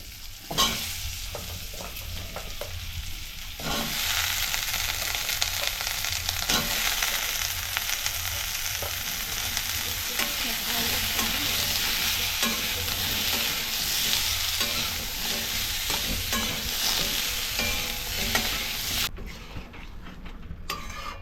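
Potatoes frying in oil with turmeric, sugar and chili powder, a dense continuous sizzle with frequent scraping stirs and occasional clinks of a spoon on the pot, loud and close, without any voices.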